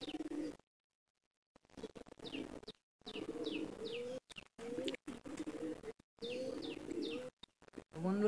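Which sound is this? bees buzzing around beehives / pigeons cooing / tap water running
pigeons cooing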